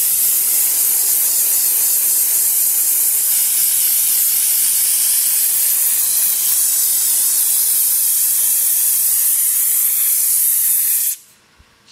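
Dry ice blasting cleans a Porsche GT3RS, a loud, steady, close hissing blast that runs unbroken for about eleven seconds before cutting off abruptly into quiet.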